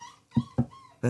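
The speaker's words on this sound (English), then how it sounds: "So if you can hear the dog squeaking, apologies for that." Dog whimpering and squeaking in short high-pitched bursts, three or four close yips and whines with brief gaps, fairly near and alone.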